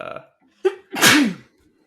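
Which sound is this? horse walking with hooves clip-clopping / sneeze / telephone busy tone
sneeze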